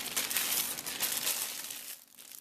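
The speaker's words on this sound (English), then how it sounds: "Recycled plastic bags work just as well." Thin plastic bag crinkling and rustling steadily as cut venison steaks from a roadkill deer are piled into it, close and fairly loud, easing off near the end.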